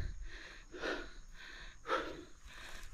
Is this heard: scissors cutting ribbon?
no